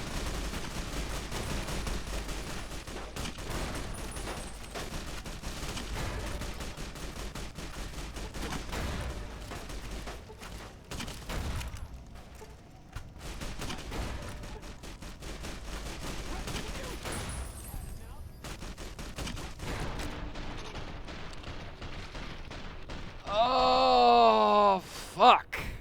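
Grenade rifle firing in Fallout: New Vegas, with repeated explosive shots and blasts buried in a dense, continuous wash of loud game combat noise throughout.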